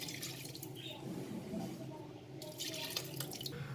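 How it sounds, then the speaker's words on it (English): Mutton stock is poured slowly and carefully into a pot of layered maqluba, making a soft, quiet splashing and trickling close by that swells and fades gently. "And now we are going to add in the mutton stock, but very carefully."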